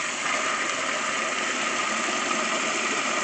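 A HomHum machine spins steadily, a constant close whirring hum with a rough, engine-like drone that holds level throughout, with no voices.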